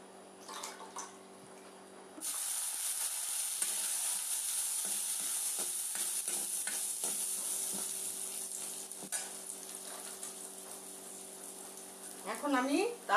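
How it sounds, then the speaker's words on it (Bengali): Chopped carrots dropped into hot tempering oil for Maggi noodles set off a sudden, steady sizzle that runs on at moderate loudness, with a person speaking over it. "কিছু গাজর কুচিয়ে রেখেছিলাম, তা এখন আমি সম্বারটাতে দিয়ে দিচ্ছি।"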